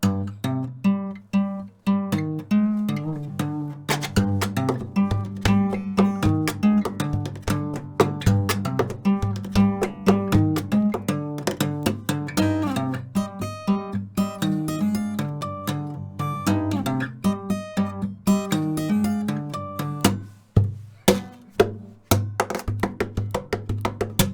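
A cheap, poor-quality acoustic guitar played percussive fingerstyle, sharp slaps and taps mixed into busy picked notes, a thin, slightly rough tone, continuous for the whole stretch.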